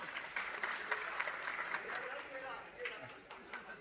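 Audience applause at an indoor political party gathering held over a leader's arrest: steady, dense clapping for several seconds with sharper bursts, moderately near, without a break.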